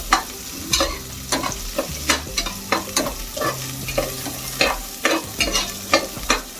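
Small onions sizzle and crackle in a hot pan for mutton head curry while a utensil scrapes and stirs in regular strokes, close and clear with no talking.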